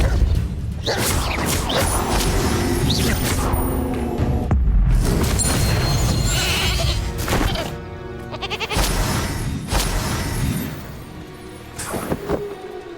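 Spell effects in the video game Hogwarts Legacy on Nintendo Switch play as a dense mix of bursts, booms, whooshes and crashes, loud and close with brief gaps between casts.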